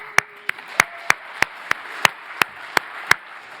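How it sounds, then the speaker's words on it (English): Clapping at the opening session of a Baltic maritime spatial planning forum in Riga comes as about a dozen sharp, evenly spaced claps in a slow, regular rhythm, close and distinct over a quiet background hum. "Applause."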